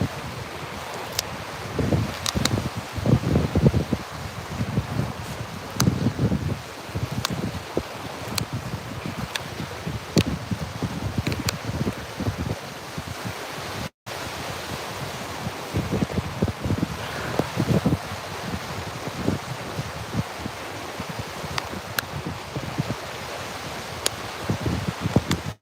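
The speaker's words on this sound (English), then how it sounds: "Wind is picking up." Wind gusts outdoors in the wilderness, rustling leaves and buffeting the microphone in an uneven roar with scattered crackles and swells over about half a minute, no voices heard.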